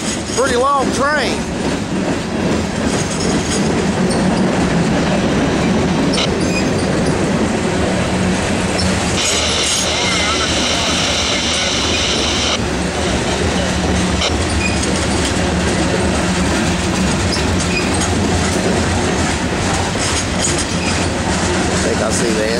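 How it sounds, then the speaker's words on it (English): A long Norfolk Southern freight train passing close by on the Piedmont Division near Charlotte, a steady loud rumble with rhythmic clickety-clack of wheels and a stretch of high wheel squeal midway. "Whoever it is, pretty long train."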